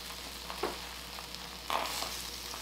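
Food frying in a pan for a few minutes on each side, a soft steady sizzle with a couple of brief louder spits, quiet and close.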